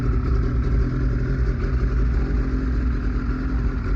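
A Ski-Doo 800 Renegade XRS snowmobile two-stroke engine idles during warm-up, a close, steady, even burble with a rough pulsing rhythm and no voices.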